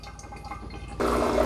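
A Breville Precision Brewer's pump kicks on and water runs into the carafe, a sudden steady whirring gush that starts partway through after quiet trickling.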